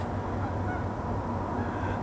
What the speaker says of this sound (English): Edgewater Park Beach has become the domain of the Canadian geese